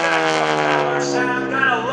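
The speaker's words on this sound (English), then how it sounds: "that's the sound of the actual engine." An aerobatic propeller airplane performs at the 2015 Greenwood Lake Airshow, its engine giving a loud, steady, harmonic drone with slight pitch shifts throughout.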